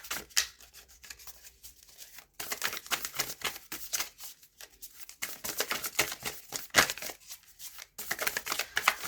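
Tarot cards are shuffled close to the microphone in quick papery bursts of riffling and rubbing, separated by short pauses.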